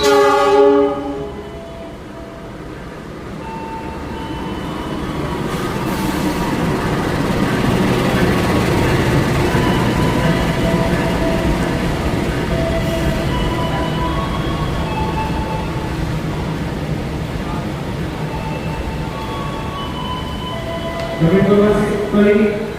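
A passenger train, the Malabar, rumbles into a station platform steadily with a horn sounding at the start and again near the end, a constant loud rolling roar throughout.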